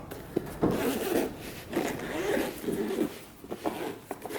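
The zipper on the rigid carrying case of a THINKCAR 689BT car diagnostic scanner is pulled open in several long, raspy zipping strokes close by, with a few clicks and rustles in between.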